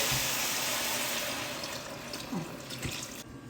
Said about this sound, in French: On vient recouvrir d'eau.